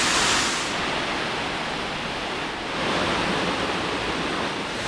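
The Nor Ta waterfall in Karen State, beside the Moei River, roars steadily with a dense, rushing hiss, surging slightly louder and softer over several seconds.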